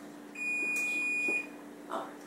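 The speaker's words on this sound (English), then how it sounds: "I set my oven to 375. That's what that was beeping" An oven gives a single sustained electronic beep for about a second, clear and moderately loud against a quiet room with a faint hum.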